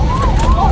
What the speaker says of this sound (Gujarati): બાકી તો એમ્બ્યુલન્સનો બી તમને અવાજ આવે છે.